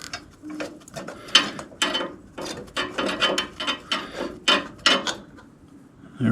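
A ratchet turning a carburetor bolt against the manifold clicks in rapid, close bursts, one short rhythmic stroke after another, fairly loud and without speech.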